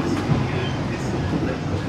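Inside a Batavia economy passenger train: a steady rumble of the running carriage with faint wheel clatter, continuous and moderately loud throughout.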